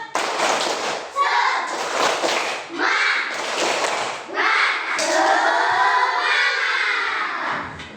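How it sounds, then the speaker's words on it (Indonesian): A group of women joins in 'tepuk semangat', a rhythmic clapping chant, with bursts of claps in a patterned beat interleaved with chanted words, fairly close and lively, ending in a longer spoken phrase. "kita tepuk semangat dulu. Tepuk semangat"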